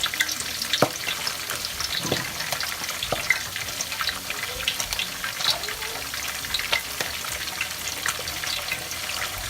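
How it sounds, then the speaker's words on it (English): Collard greens fry in hot oil for a Liberian dish, with a steady crackling sizzle and scattered pops, heard up close. "And then we're gonna fry the collard green."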